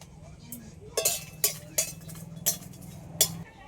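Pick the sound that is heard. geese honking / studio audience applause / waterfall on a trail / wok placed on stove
wok placed on stove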